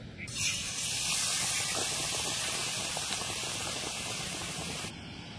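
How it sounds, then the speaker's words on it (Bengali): A steady, loud sizzle of batter-coated pitha frying in hot oil hisses continuously for several seconds, then stops. "আবার আমি ভেজে নেব"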